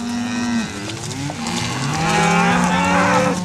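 Cattle moo repeatedly during a traditional cattle drive along county roads on a Washington ranch, several overlapping calls from a herd, loud and near, with no talking.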